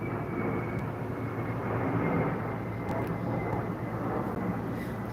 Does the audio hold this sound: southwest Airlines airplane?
yes